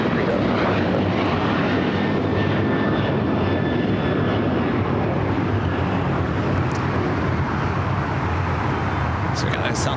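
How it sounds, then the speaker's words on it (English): A Southwest Airlines Boeing 737 MAX 8 jet on a go-around at LAX gives a loud, steady engine roar that fills the whole stretch, with a faint whine riding on top and no talk. "Southwest Airlines Flight 427 coming in from Dallas Love Field is 737 MAX 8 going"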